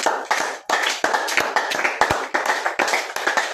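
A church congregation claps together, sharp hand claps in a dense, uneven burst filling the room, with no talk over it.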